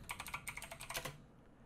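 Rapid typing on a computer keyboard, a quick burst of clicking keystrokes that stops abruptly, close and clear with no talking.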